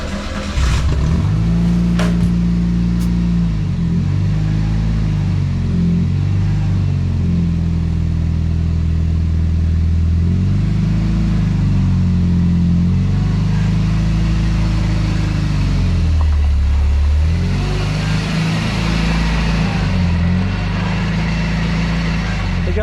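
A Chevrolet S10 pickup rescued from a junkyard drives on a test run, its engine droning loud and close throughout, rising and falling in pitch as it accelerates and shifts.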